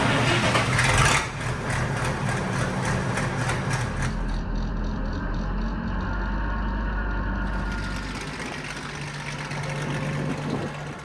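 An International 826 gear-drive tractor engine idles steadily with a deep, continuous rumble, loudest at the start and then settling into an even running sound.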